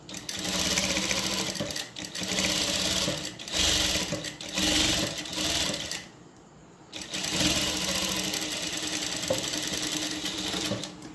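A sewing machine stitches an invisible zip into fabric in several loud, rapid bursts, with brief pauses between runs and a near-silent gap around the six-second mark before the whirring resumes.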